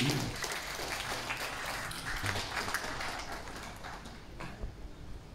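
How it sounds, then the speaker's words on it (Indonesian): An audience at an award ceremony in a regency pendopo in Nganjuk, Indonesia, claps for the award winners; the applause is fairly quiet and distant, a loose, uneven patter of hands. "Tepuk tangan dulu untuk Nganjuk"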